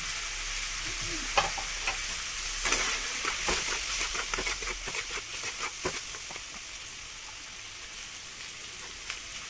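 Turmeric and chili powder are stirred in a sizzling pan, a spoon scraping and tapping in an irregular rhythm over a steady hiss that eases toward the end.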